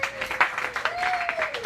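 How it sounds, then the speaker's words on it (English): Brief applause from a comedy club audience rattles behind a host's amplified voice, a short burst of scattered clapping that lasts under two seconds. "Let's give another round of applause for Chris Screeve,"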